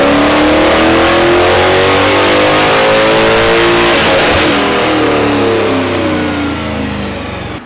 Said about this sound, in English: So that was our first run with OJ's tune